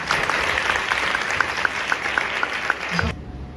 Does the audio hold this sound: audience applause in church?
yes